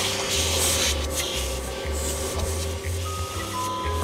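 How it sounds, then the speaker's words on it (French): Cartoon vacuum cleaner running steadily throughout, a continuous loud whirring drone with a low pulsing hum underneath and no talking. "J'ai cru entendre un bruit d'aspirateur"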